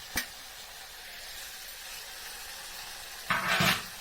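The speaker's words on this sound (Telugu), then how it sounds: "ఇవి కొంచెం సేపు ద్వారగా వేయించుకోవాలని." Green chillies, tomato pieces and curry leaves frying in a pan for an egg curry: a low, steady sizzle with a sharp tap at the start and a louder rustling flare of frying near the end.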